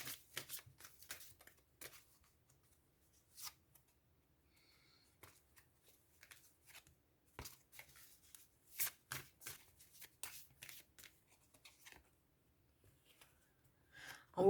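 Tarot cards being shuffled during a card reading, soft papery riffles and slaps in irregular bursts with quiet gaps, close and fairly faint, alone without talk.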